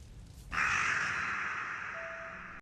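Crow cawing in the anime Attack on Titan, a single long, harsh caw held for about two seconds and slowly fading, loud and close over a quiet background.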